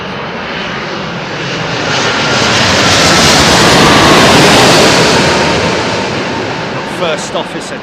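A big jet airliner flies low overhead at London Heathrow, a loud roaring rush that builds steadily, peaks in the middle and slowly fades away.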